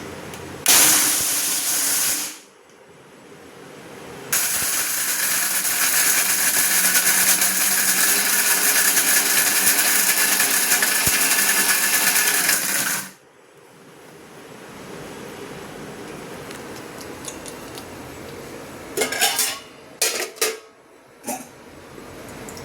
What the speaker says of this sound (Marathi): पहिलं नांगे मिक्सरला वाटून घ्यायचे